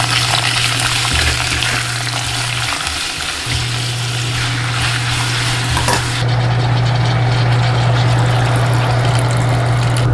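Ginger slices and pork kidney stir-fried in sesame oil in a 20 cm pan over low heat, giving a steady close sizzle and crackle that runs throughout with faint scraping from stirring.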